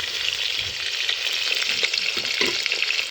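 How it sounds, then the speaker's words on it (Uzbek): Potatoes frying in hot oil, a dense, loud, continuous crackling sizzle close by with light stirring clatter now and then, no talking. "Kartoshkalarni ham yog'da qizartirib qovurib olamiz."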